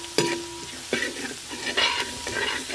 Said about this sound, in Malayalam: എല്ലാം കൂടെ ഒന്ന് മൂക്കട്ടെ.